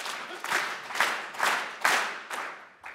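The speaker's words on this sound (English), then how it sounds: "I'd just like everyone to clap 5 times" A standing crowd at a youth sports volunteer recognition event claps in unison, five loud synchronized beats spaced about half a second apart, with a softer sixth clap trailing at the end.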